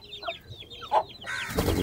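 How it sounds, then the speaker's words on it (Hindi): Chickens cluck in short, soft bursts nearby, with a few quick calls overlapping and a louder rustling noise near the end. "ये हमारी मुर्गियां भी साथ फिर रही हैं"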